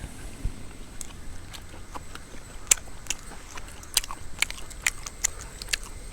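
A person eats chicken thoran, a Kerala stir-fry, with soft irregular crunchy bites and chewing clicks spread over several seconds, close and fairly quiet, without talk.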